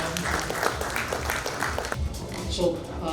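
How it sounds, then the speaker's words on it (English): Applause from an audience at the Smart Office India Summit in Mumbai, a moderate burst of clapping mixed with voices in a hall, fading slightly partway through. "With that, Nitish, a round of applause, ladies and gentlemen, for"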